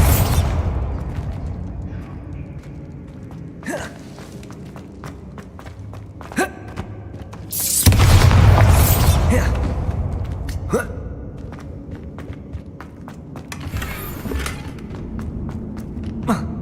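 A Bombarda spell goes off in Hogwarts Legacy as one loud, booming blast that rolls out over a couple of seconds. Before it come scattered thuds and gasps in a quieter game scene.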